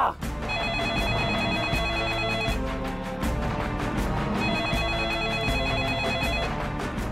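A telephone ringtone plays in a repeating melodic pattern, loud and steady, two phrases of electronic ringing with a beat underneath.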